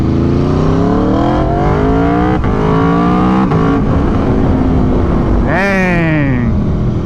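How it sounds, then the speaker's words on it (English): A 2022 Aprilia RSV4 1100 Factory V4 sport bike accelerates through the gears, pitch climbing in repeated rising sweeps broken by quick shifts, then a sharp high rev near the end; loud, close and continuous. "That low end V4 grunt"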